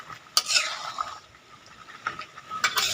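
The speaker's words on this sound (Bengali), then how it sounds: "আলুর সঙ্গে মাংসটা ভালো করে কষে নিয়েছি" Chicken and potato being stirred and fried in a pot for a rustic curry, with scraping strokes of a spatula and soft clinks against the pot over a low sizzle, close by.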